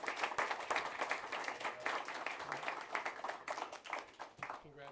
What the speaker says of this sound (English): please join me in a warm round of applause for our panel